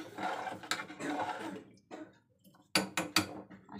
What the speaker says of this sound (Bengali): ওইটুকুনি মশলা শুধু কষিয়ে এই যে জল ঢেলে দিচ্ছি